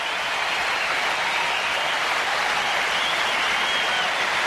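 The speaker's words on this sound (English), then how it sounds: "And they're still applauding." Steady crowd applause at a tennis match during a tiebreak between Safina and Sharapova, a dense, even wash of clapping that holds at full volume throughout with no talk over it.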